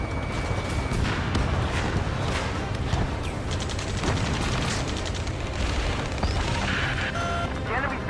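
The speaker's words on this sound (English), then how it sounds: "Strider 1, missile away." Missile launch and explosions in the Ace Combat 7 jet combat game: continuous loud roaring rumble with repeated booming blasts and crashes, radio voices talking over the din.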